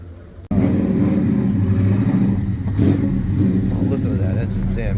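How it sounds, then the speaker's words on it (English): A Fox body Ford Mustang at a 1950s diner car show revs its engine close by, a sudden loud roar rising and falling over about five seconds, with voices in the background. "Listen to that engine."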